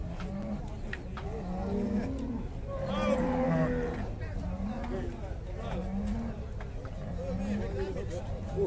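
Cattle lowing repeatedly at a cattle fair, several long moos from nearby animals amid crowd chatter and voices talking throughout.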